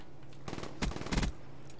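Rapid automatic gunfire in Call of Duty Black Ops 3, two short bursts of game shots close together in under a second, fairly loud against quiet background.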